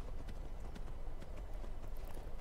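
Horse hooves clip-clop at a run in Skyrim, a steady rapid patter of hoofbeats close by over a continuous low rumble, with no talking.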